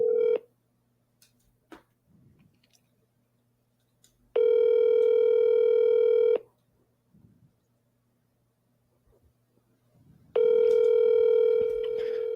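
A telephone call rings out through the earpiece, with two long electronic ringback tones separated by a few seconds of near silence, clear and close with faint handling noise between rings.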